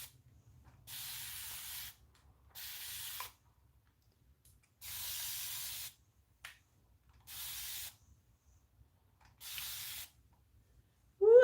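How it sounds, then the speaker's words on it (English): Five short hissing bursts from a fine mist spray bottle, evenly spaced with quiet gaps between, close and soft. "I like this little spray. A nice fine mist."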